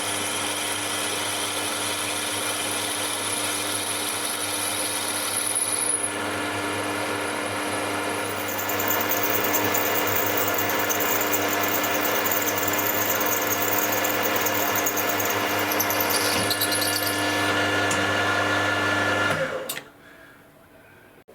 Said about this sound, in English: Now I'm drilling a 6mm hole straight through the block.